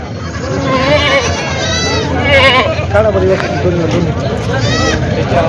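Goats bleat repeatedly at a busy goat market, several close, wavering cries rising over a murmur of crowd chatter, with people talking throughout.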